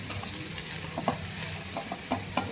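Onions and grated coconut frying in oil in a pan, a continuous close sizzle broken by regular soft scraping stirs, with no one speaking.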